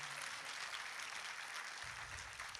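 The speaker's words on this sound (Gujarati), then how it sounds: "તાળીઓના ગડગડાટથી આ કલાકારોને વધાવીએ" An audience at a stage play applauds the actors, with continuous clapping from a sizable crowd, somewhat distant and even throughout.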